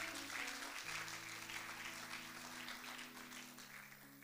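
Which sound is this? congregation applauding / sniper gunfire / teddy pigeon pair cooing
congregation applauding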